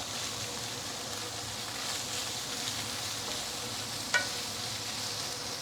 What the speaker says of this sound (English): let's continue to fry the fish for a couple of minutes